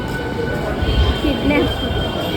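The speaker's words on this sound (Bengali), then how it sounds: "দেখতে পাচ্ছ আমাদের ট্রেন কিন্তু চলে এসছে" A train pulls in, a low rumbling roll with faint wheel squeal rising briefly, heard at moderate distance beneath outdoor ambience.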